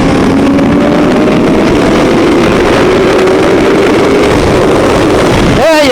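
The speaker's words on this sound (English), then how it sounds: "I forgot what I had to do to rev bikes like that" A loud motorcycle engine, a Honda Fireblade or an Aprilia V4, runs steadily with rising engine tones, then revs sharply near the end.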